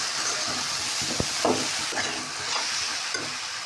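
Vegetables being stirred as they fry in a pan, scraping spatula strokes and a sharp knock over a continuous close sizzle, with no talking.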